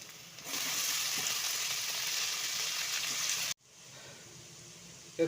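Onions and green chillies sautéing in a pan: a strong, even hiss of frying close up, which drops abruptly to a softer sizzle after a few seconds, ending with a small bump.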